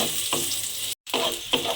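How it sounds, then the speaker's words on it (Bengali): Chopped onion sizzles in a hot pan while being stirred, a continuous frying hiss with scraping strokes, broken by a brief silent gap. "সেই পেঁয়াজ কুচিটা আমি এর মধ্যে দিয়ে দেব। দিয়ে একটু নাড়াচাড়া করে ভেজে দেব।"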